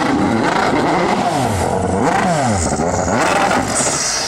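A Peugeot drifting at the Goodwood turnaround revs hard and close, the engine note rising and falling in repeated sweeps over tire and crowd noise, loud throughout.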